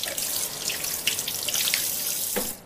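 Tap water runs steadily into a sink as hands are washed beneath it, a continuous close splashing hiss lasting a few seconds before it stops.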